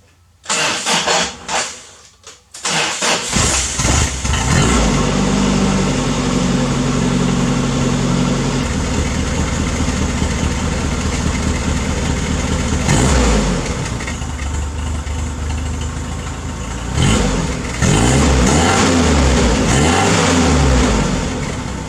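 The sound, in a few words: Toyota Hilux engine revving after exhaust repair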